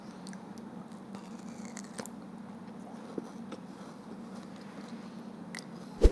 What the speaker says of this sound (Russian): Он так хрустит.